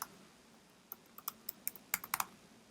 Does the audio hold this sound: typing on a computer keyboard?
yes